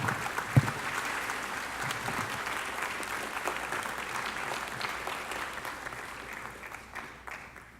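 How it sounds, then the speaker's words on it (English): A crowd applauds as honorees are called up to a stage, steady mid-distance clapping from many hands that carries on evenly before gradually thinning out at the end. "let me invite Jeffrey, Lori and Jeff, Michael and Connie up here to the stage as we give them all a round of applause"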